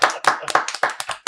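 People clap in quick, uneven bursts, loud and close, with a few hands slapping in a ragged rhythm at an awards-season film interview.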